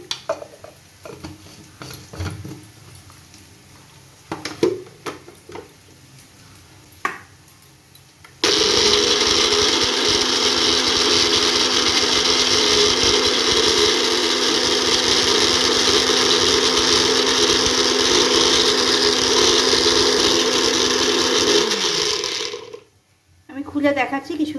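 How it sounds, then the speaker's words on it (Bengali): A mixer grinder whirs loudly and continuously for about fourteen seconds, blending cashews and almonds with a little water into a fine paste, preceded by scattered kitchen clatter and ending abruptly. "আমি কাজু আর আমনটা মিক্সির জারের মধ্যে দিয়ে একটা ফাইন পেস্ট করে নেব"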